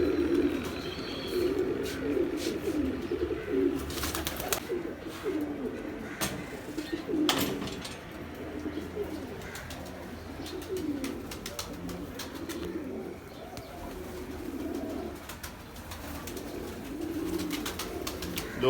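Pigeons cooing steadily in low, repeated throaty calls, with some faint chirps and background noise.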